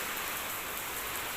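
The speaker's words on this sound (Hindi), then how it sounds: "बारिश बहुत ज़ोरों से आ गई है" Heavy rain pours down in a dense, steady hiss, constant and moderately faint, with no other sounds.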